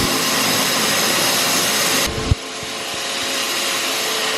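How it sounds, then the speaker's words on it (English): Fans on a farm grain dryer roar loudly and continuously at close range. The broadband rush shifts in tone partway through, with a brief thump, then steadies again, and there is no talking. "Grain dryer's running"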